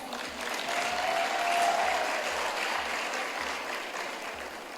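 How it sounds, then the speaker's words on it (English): Crowd applause fills the hall at a Miss Malawi grand finale pageant, sustained and moderately loud, with a faint tone and soft low thumps beneath the steady clapping. "I thought you would clap your hands"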